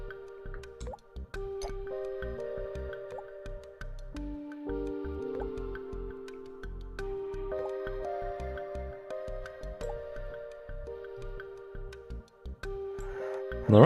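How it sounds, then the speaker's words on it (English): Spinal fluid drips in the House MD Nintendo DS game: a steady series of close, wet drip sounds plays over a soft sustained musical tone, with no voices. "we're just gonna let the spine just drip for a moment"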